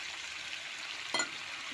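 Fried potato, green chili, ginger, garlic and onion sizzling in a pan, a steady soft hiss with one brief clatter or splash partway through, close and fairly quiet.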